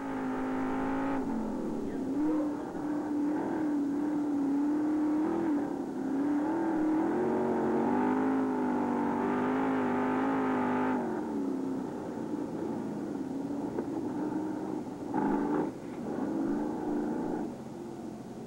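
A race car engine drones from inside Andy Hillenburg's car, a steady loud in-car hum that rises and falls in pitch with revving and shifting and runs continuously throughout.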